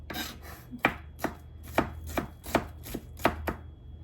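Onions are chopped on a cutting board for a bitter gourd salad with pork, carrots and cucumber. About ten sharp, evenly spaced knife strikes land close by in a quiet setting.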